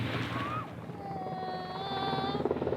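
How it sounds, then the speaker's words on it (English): A military helicopter arrives for a rope-descent assault at the end of an army competition. Its low, steady rotor rumble carries throughout at moderate distance, with a whine on top and a crowd faintly in the background. "who arrive in style in a helicopter assault at the end of a rope"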